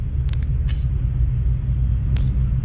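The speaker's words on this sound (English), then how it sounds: "Holy moly, a big semi-truck just pulled out in front of this other truck." Big semi-truck pulling out in traffic in a film scene: a steady low diesel rumble with a couple of brief hissing air-brake bursts.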